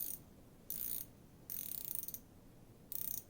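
Milwaukee MaxBite or GearWench ratcheting wrench, still in its package, clicking in short bursts as it is twisted, a fine rapid ratchet buzz repeating three or four times, close and fairly quiet.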